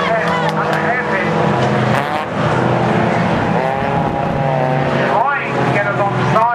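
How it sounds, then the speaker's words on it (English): Race cars roar through the Brands Hatch hairpin during a race, engines rising and falling as they brake and accelerate close together, with a commentator talking over the noise. "Andrew Ashton so close to Mike Williams at the hairpin"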